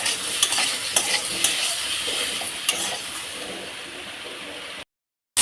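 Fresh green chillies fry in a hot pan with an even, crackling sizzle punctuated by a few sharp stirring clicks before the sound cuts to silence.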